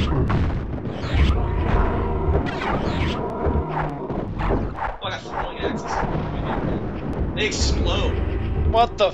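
Repeated booming explosions and thuds from the fantasy shooter Hexen go off in rapid succession, tangled with game effects, while a voice talks over much of the action.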